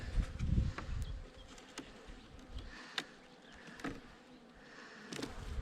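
Honey bees hum softly in a steady, faint drone during a hive inspection, with scattered light knocks and clicks of hive frames nearby and no talking.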